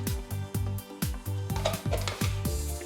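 Metal spoons and cutlery clatter in a kitchen drawer as a fresh spoon is pulled out while a vegan peanut butter banana coffee smoothie is being made: a run of sharp clinks and knocks, close and fairly loud, with no talking.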